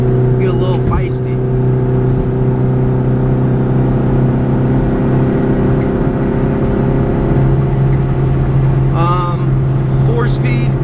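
A 1989 Rover Mini 30th Anniversary Edition with four-speed manual transmission, accelerating hard at high speed, its engine droning loud and steady from inside the cabin, with brief chirpy noises near the start and end.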